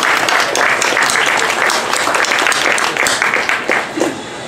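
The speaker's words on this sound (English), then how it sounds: "Let's give a round of applause to all of our panelists." Audience applause for a panel at a public policy teach-in at a country fair, a dense steady wash of many hands close by that thins slightly toward the end.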